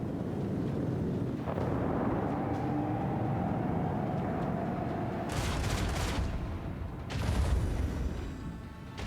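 Macro cannons fire in the space combat of Warhammer 40,000: Rogue Trader, a loud game soundtrack of low booming rumble with two sharp broadband blasts standing out near the end, no talking.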